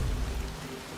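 Rain falls in the survival game Soulmask, a steady hiss of downpour with a low rumble that fades after the first half second.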